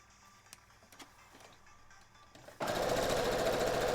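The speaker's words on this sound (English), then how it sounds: "I am almost done sewing strips together" A sewing machine joins quilt strips, starting after a few light clicks and handling noises, then running in a loud, steady rapid whir to the end, close by.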